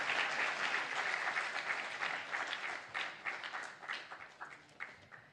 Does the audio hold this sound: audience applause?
yes